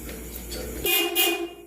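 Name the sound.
horn of electric mini jeepney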